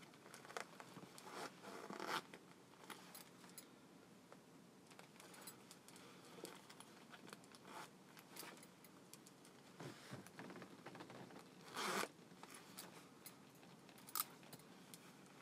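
A zipper rasps open and shut several times close by, with soft fabric rustling and small clinks in between.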